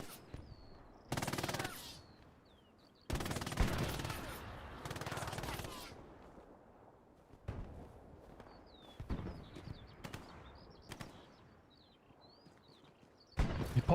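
Bursts of automatic gunfire in a competitive WWII-era match, several sharp loud volleys separated by quieter gaps, with fainter distant shots and footsteps between them.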